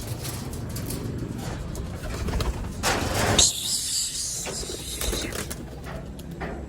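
Racing pigeons coo in low, repeated burbling calls close by, with a brief sharp mechanical clack partway through and faint background ambience.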